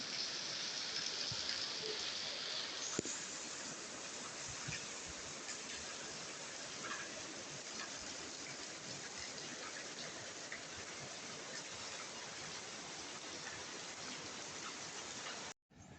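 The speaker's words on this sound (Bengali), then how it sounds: "বেশ বৃষ্টি হচ্ছে বাইরে অনেক বৃষ্টি হচ্ছে বাইরে" Heavy rain pours steadily outside late at night, a dense, even hiss of drops on surfaces that holds constant for the whole stretch before cutting off abruptly at the very end.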